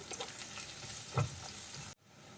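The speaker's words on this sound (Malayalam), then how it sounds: "അതും കൂടി നമുക്കൊന്ന് വഴറ്റിയെടുക്കാം" Thinly sliced long carrot strips sauté in a pan for veg noodles, a soft steady sizzle with a brief stirring scrape near the middle, cutting off abruptly near the end.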